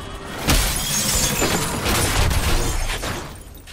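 A hard crash landing after a fall from the sky in the video game Call of Duty Advanced Warfare, a loud, shattering impact followed by sustained crunching, rumbling debris noise.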